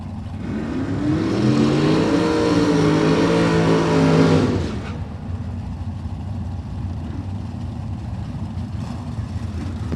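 Drag racing cars, Cliff Hall's Ford Falcon with a big hood scoop and Eric Dukas's Pontiac, roar loudly off the line for about four seconds, engines rising in pitch, then fade into a steady distant rumble and crowd noise.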